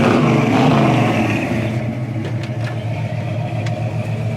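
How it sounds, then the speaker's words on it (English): A 1972 Chevy Nova with dual exhaust running, a steady low engine rumble close by, loud at first and then settling into an even idle, with no talk. "Great sounding car, real nice dual exhaust."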